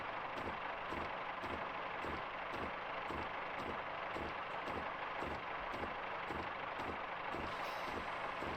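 Train braking on a downhill gradient on the Riviera Line, a steady low rumble with regular rhythmic clacks and a faint hiss near the end, continuous and fairly quiet throughout.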